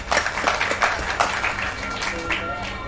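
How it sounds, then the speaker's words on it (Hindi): Audience applause welcoming the launch of a book at a Hindi book release ceremony: dense, steady clapping from a crowd, fairly close and sustained throughout, with no one speaking over it. "इस पुस्तक आप सब महानुभावों का एक जोरदार तालियों के साथ स्वागत करते हैं।"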